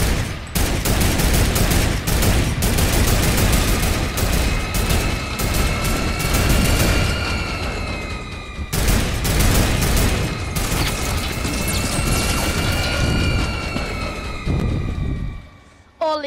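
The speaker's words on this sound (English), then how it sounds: "Accurate, the new turrets." Rapid sustained turret gunfire in the video game Fortnite, loud and continuous with dense repeating shots and a brief pause midway, with faint voices underneath.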